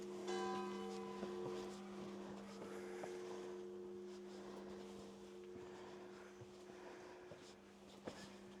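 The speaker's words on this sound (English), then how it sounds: "At least we can just follow the sound of the chimes and we should get to that church." Church bells chime in a French town, a distant resonant peal ringing out in the open air, strongest at the start and then lingering and fading beneath street ambience.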